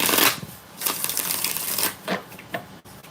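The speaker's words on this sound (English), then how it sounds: "One more shuffle." A deck of tarot cards being shuffled during a card reading, giving repeated papery riffles and flutters in several bursts across a few seconds, close and fairly loud with no talking.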